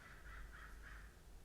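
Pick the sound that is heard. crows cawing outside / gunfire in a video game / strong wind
crows cawing outside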